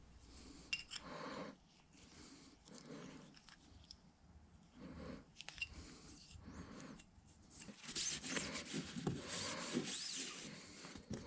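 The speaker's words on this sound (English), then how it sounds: "I have this little handheld deburring tool, and I'll use that to deburr the backside of that hole that we just tapped" A small handheld deburring tool scrapes around the back edge of a freshly tapped hole in a machined drawbar handle, giving repeated close rubbing and rasping strokes in bursts, growing louder and busier toward the end.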